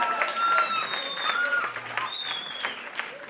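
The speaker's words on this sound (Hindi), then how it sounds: "अंजुम जी के लिए एक बार जोरदार तालियों का चाहिए, फास्टर एंड लाउडर" Audience applause for a performer at a live stage event, dense and steady clapping from a crowd filling the whole stretch, with a host's voice rising over it.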